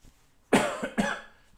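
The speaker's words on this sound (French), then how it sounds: "Excusez-moi, je tousse encore." A woman coughs twice, close and sharp, with a short gap between the coughs. The moments around them are quiet.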